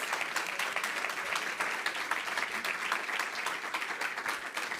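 An audience at a bio-based economy challenge event applauds the finalists with brisk, continuous clapping, crisp and close, sustained across the whole stretch.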